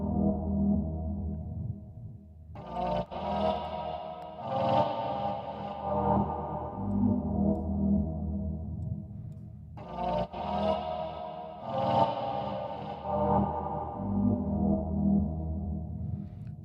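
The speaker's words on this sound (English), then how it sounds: "let's try reverb" A synth sequence from Native Instruments Glaze 2 run through heavy reverb, two washed-out repeating phrases with long, smeared tails and swelling echoes, alone with no voices.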